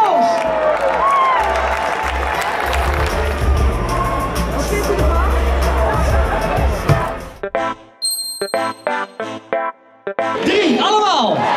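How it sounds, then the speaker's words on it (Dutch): A crowd at the Cruyff Foundation open day applauds and cheers in a loud, broad roar for about seven seconds. It then gives way to scattered short electronic tones and bursts of noise. "Applaus!"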